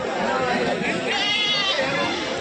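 Goats bleating at the Etawah goat market in Uttar Pradesh, India, wavering cries rising over a busy crowd murmur, with people talking close by.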